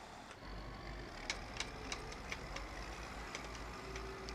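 A slow-moving tractor engine in the farming game Farm Expert 2017 gives a quiet, steady low drone with faint regular ticking over it, heard alone.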